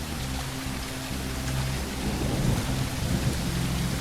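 Steady rain hisses across the landscape in the video game Bigfoot, with low thunder-like rumbling beneath that swells slightly midway, loud and continuous with no talking.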